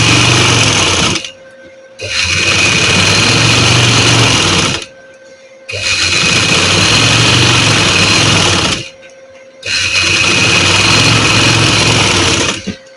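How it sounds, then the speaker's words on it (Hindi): A sewing machine stitches along the edge of salwar fabric in three sustained loud runs, each a few seconds long, separated by short pauses. "इसी तरह हम किनारे पे सिलाई लगा देंगे।"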